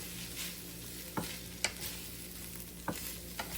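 Onions go into a pan of frying chicken, giving a quiet, steady sizzle with a few sharp clicks of a utensil stirring against the pan.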